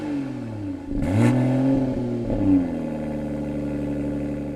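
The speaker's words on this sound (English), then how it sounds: "Here's a little sample of that exhaust." A 2022 Toyota GR Supra 3.0 Premium with its 382-horsepower engine revs in sport mode, the exhaust rising sharply in a quick blip, then settling into a steady, rumbling idle, close and loud with no talk.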